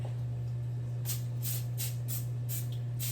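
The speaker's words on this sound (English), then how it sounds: "lightly spray it with a little bit of oil so that the bagels don't stick" Cooking oil sprayed onto a cookie sheet before baking bagels: about six short, sharp hissing bursts in quick succession, close by, over a steady low electrical hum and no talking.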